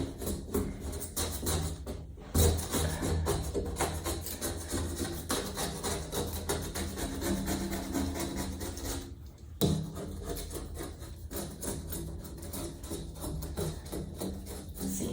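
Scraping dried paint off a wet glass pane with a blade, a continuous gritty rasping that runs steadily throughout, close and fairly loud, with brief pauses near two and nine and a half seconds.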